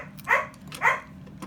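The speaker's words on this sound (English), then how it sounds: "I'm so sorry about my dog barking in the background." A dog barks twice in the background, two separate woofs about half a second apart, moderately close and with nothing else around them.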